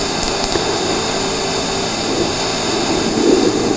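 Steady TIG welding arc from a 1/8 inch tungsten electrode running at 60 amps, a loud continuous buzzing hiss with no break.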